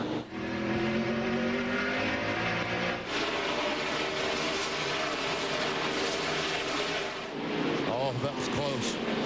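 NASCAR Winston Cup stock cars at Martinsville Speedway back off and nearly stop through a tight corner, their loud engines dropping below 5,000 RPM in a dense, continuous roar that shifts pitch near the end, with commentary talking over it.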